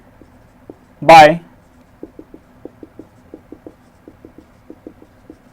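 Pen strokes writing out a maths solution for a class 10 lesson, a string of short scratchy taps spaced irregularly after one loud spoken word.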